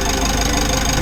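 A Mitsubishi L300 Euro4 van engine idles steadily with a low rumbling drone and faint knocking, close and fairly loud throughout, its AC compressor noisy.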